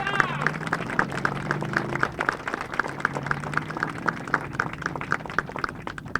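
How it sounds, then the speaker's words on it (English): An outdoor crowd applauds at a log cabin dedication ceremony, moderately loud clapping that settles into a steady rhythmic beat, with voices murmuring underneath. "I would like for your next round of applause not to be for me"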